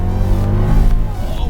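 Mercedes E55 AMG V8 engine, a very high-mileage example, revving hard under acceleration from inside the car, a loud, steady low roar with no talk over it.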